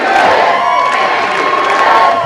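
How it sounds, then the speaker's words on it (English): Crowd at a campaign rally for Vice President Kamala Harris, chanting and cheering in approval: a loud, dense roar of many voices that holds steady throughout. "That proclamation spurred a chant of approval from the crowd."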